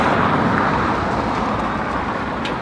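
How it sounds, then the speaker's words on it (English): A car rushes past on a road at night, a loud broad whoosh of tires and engine with steady traffic noise and no voices. "The car is speeding."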